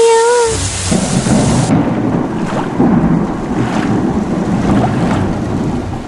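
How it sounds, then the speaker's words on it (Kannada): Thunder rumbles and heavy rain pours continuously in an animated cartoon, a loud, dense downpour with rolling thunder throughout and no talking. "ಏನಿದು, ಎಷ್ಟು ಬೇಗ ಮಳೆ ಬರ್ತಿದೆ."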